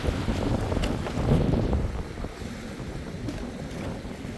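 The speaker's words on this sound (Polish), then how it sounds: "tak jak słyszycie, wiatr wieje i to wszystko przenosi się do środka, do oceanu" Gusty wind blowing across the microphone in uneven low rumbles on the seashore at Marsa Alam, Egypt, with faint water and rattling sounds in the background.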